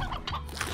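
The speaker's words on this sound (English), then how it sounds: "I want to collect the stony chickens." Stony chickens clucking in the video game Slime Rancher, a short burst of busy fowl-like gobbling and clucking calls, fairly close and dense over under a second.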